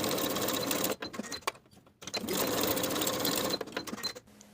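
A sewing machine runs close up, stitching the short edges of a welt piece for a belted dress, in bursts of rapid mechanical chatter broken by short pauses and stops.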